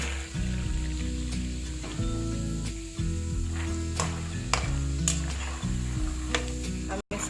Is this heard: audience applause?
no